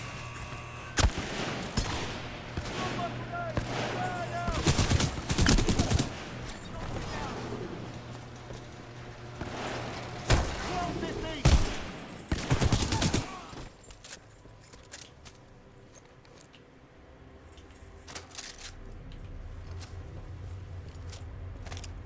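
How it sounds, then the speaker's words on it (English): Shotgun blasts from Titanfall 2, a run of loud, sharp bursts spread across the first half with quieter stretches and faint game ambience after. "Oh, this is the shotgun."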